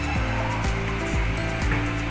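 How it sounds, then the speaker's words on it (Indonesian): A household electric fan under repair, running on speed setting 2, whirs with a close, steady hum and a rhythmic rubbing swish about twice a second, with no voices. "kalian bisa merasakan ataupun mendengar putarnya kipas angin ini."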